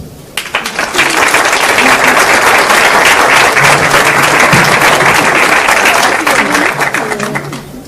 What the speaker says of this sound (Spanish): Solicitamos un cálido aplauso.